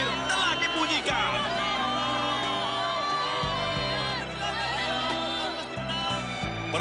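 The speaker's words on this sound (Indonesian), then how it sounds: "penonton bersorak-sorai" An animated stadium crowd at a national championship football final cheers and shouts continuously, with whoops and excited voices rising and falling in a loud, dense roar.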